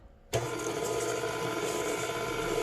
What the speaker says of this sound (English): now we're gonna also add the sugar and start also whisking